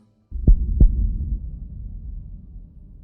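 A deep, close heartbeat in a meditation recording, two thudding beats in quick succession over a low droning hum that slowly fades, loud and alone.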